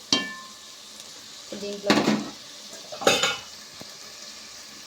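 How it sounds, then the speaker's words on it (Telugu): Tomatoes stirred and cooking down soft in a pan, a few distinct scrapes and clinks of a utensil against metal over a faint sizzle, with a brief spoken word. "ఇక్కడ టమాటా మెత్తగా అయ్యేదాకైతే మగ్గ తీసుకోవాలి."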